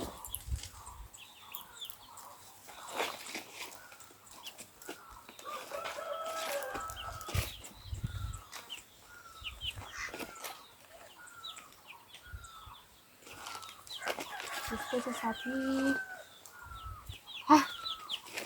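Village chickens cluck and fuss in a yard where goats are also kept, with scattered calls and an occasional crow at moderate distance. Someone briefly speaks over the birds.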